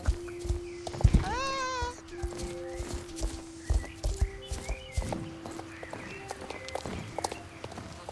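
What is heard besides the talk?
horse galloping in the video game Star Stable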